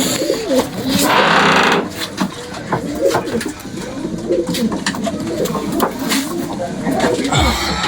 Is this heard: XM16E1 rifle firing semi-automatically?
no